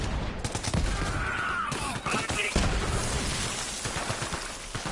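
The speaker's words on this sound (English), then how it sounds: "Shotgun time." Shotgun fire in the shooter game Borderlands 3, loud, close, rapid blasts forming a dense barrage over about five seconds, with booming impacts mixed among the shots.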